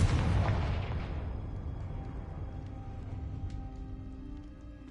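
Confringo blasting spell going off in a video game: one loud, close boom opens the clip, then a long rumbling decay that trails away over several seconds, with no talking.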